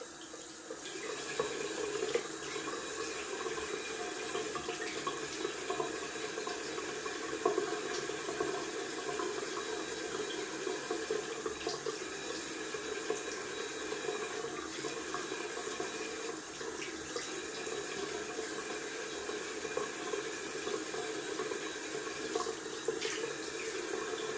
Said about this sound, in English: Gonna rinse off with cold water and see where we're at.